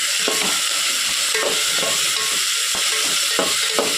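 Four medium tomatoes sizzle in a hot pan while a utensil stirs them, a steady loud frying hiss with soft scraping knocks at an uneven rhythm, no voices.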